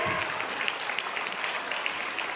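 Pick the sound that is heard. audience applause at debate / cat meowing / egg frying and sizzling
audience applause at debate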